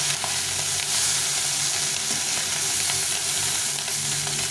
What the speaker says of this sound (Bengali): অল্প তেলে মাছ ভাজবে।